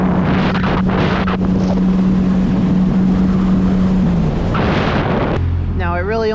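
A waverunner engine runs at full throttle under loud wind noise, a steady motor drone holding for about four seconds before fading, followed by a brief burst of speech-like sound at the end.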